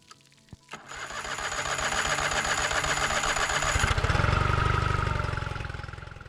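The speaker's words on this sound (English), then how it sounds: "she started up no problems" Boat outboard motor starting up after a rectifier regulator replacement, a few clicks and a cranking catch before the engine settles into a steady, fairly loud buzzing idle that runs on alone.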